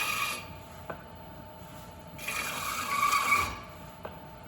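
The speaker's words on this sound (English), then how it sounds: "trim it starting with this wooden rib" A wooden rib trims a clay pot spinning on a potter's wheel, giving a soft, continuous rasping scrape that swells in two longer passes, with a couple of faint ticks in between.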